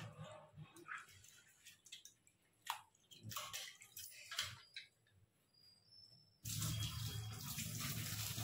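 Soaked chana dal is rubbed and washed by hand in water in a home kitchen. Scattered splashes and swishes come first, then a loud, steady rush of running water.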